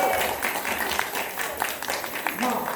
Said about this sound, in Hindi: अरे ताली बजाएंगे तो थोड़ी एनर्जी आएगी जी।